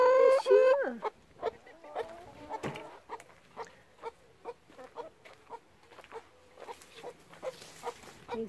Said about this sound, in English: Little tweets.